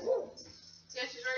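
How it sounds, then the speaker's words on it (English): Hazel, a pit bull in a Sims 4 game, gives a couple of short barks, soft and somewhat distant, with a brief whimpering tone between them. "Hazel likes to bark at people outside."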